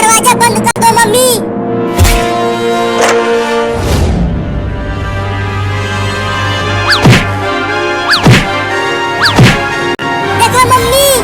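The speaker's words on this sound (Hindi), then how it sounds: "वो कमीनी बिलार दरवाजे को कैसे मार रही है, लगता है जैसे तोड़ ही देगी" A cartoon cat bangs hard against a door, heard as several loud thuds spread through a busy comic soundtrack with music and voices.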